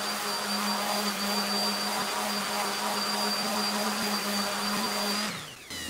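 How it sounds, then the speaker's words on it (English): An oscillating sander runs continuously with a steady high-pitched whine and buzzing hum, close and loud, then winds down and stops near the end. "when you're sanding with that oscillating sander"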